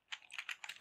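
Quick taps on a computer keyboard while typing code, about six crisp keystrokes in under a second, close and quiet.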